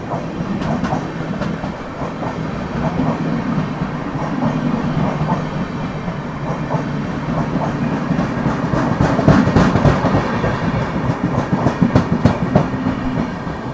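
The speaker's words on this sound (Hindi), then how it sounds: "जी हाँ, अवध एक्सप्रेस है। वैग 9 के साथ जा रही है भाई।" The Awadh Express, hauled by a WAG-9 electric locomotive, rolls past on Indian railway track with a loud, continuous rumble and a rapid clickety-clack of wheels over rail joints that swells slightly as the coaches go by.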